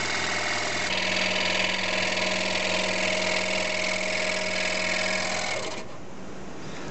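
Scroll saw cutting a piece of wood, heard as a steady, fast, buzzing reciprocating hum with a rough edge, close and continuous until the blade load drops near the end and the tone shifts.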